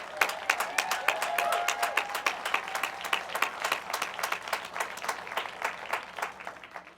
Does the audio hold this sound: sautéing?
no